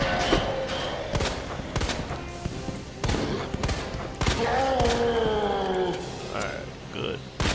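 Gunfire in the Resident Evil 2 Remake video game, a string of sharp shots at irregular intervals under game effects and other in-game sounds, loud and close throughout.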